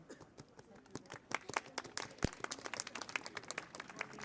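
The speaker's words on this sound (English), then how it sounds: "Please give her a big clap." Audience at a London rally for Tibetan National Uprising Day bursts into applause, a dense, steady patter of many hands clapping that swells and holds, with a sharp thump partway through and some voices mixed in.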